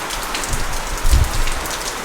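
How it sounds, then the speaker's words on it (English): Heavy rain pours steadily and loudly, a dense wash of drops drumming on surfaces with no voices. "Sorry for all this noise. It's raining properly."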